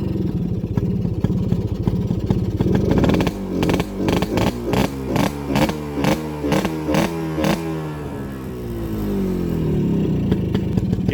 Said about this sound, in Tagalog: test drive na natin mga kabro. Itong Kawasaki HD3 na ginawa natin